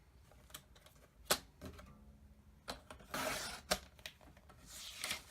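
A 1.5 inch strip of card cut for card making: a few sharp clicks and short, quiet scraping, swishing strokes spread across the moment, with no talk.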